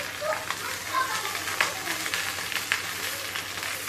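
Fish sizzling and spitting in hot mustard oil in a pan, a steady broadband crackle with scattered sharper pops throughout, close and moderately loud with no talk.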